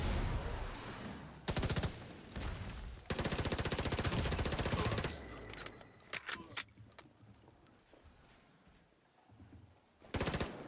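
Gunfire bursts from the Rainbow Six video game during a boss fight, coming as several loud, dense automatic volleys separated by quieter gaps, with scattered sharp impacts in between.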